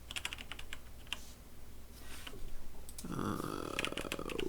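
Close, quick clicks of fingers typing a password on a computer keyboard, a steady patter of keystrokes that trails off before a low burp-like rumble rises near the end.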